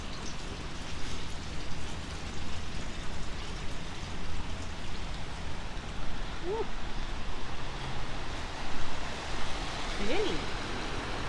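A river flows steadily nearby, a constant broad rush of water throughout with a person briefly exclaiming over it.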